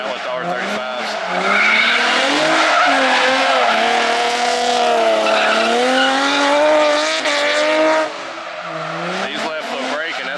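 Drift cars slide at Sweetwater Motorplex in Niota, Tennessee, engines wailing at high revs as tires squeal loudly in long sustained skids, swelling and fading as the cars pass.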